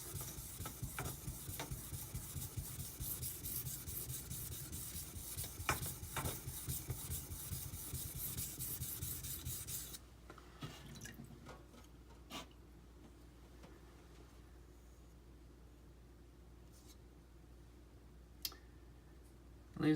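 A knife is worked back and forth on an Imanishi Latte 400 grit whetstone, a close, steady gritty rasping that stops abruptly partway, leaving near quiet broken by a few faint clicks.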